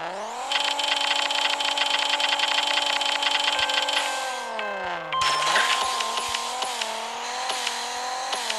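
A Mazda RX-7 RE in the Racing Rivals racing game revs hard with a loud, sustained rotary engine drone, drops pitch at a shift, then climbs again through the gears.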